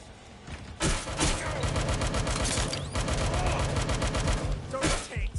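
Rapid automatic gunfire in the video game Watch Dogs Legion, a loud, sustained burst of dense shots with brief gaps, close up and mixed with other game sounds.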